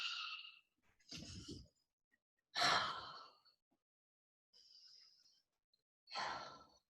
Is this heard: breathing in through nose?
yes